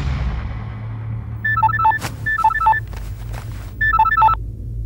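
A telephone rings in a Hindi-dubbed action film scene, three repeated bursts of a trilling electronic ring over a low, steady background hum.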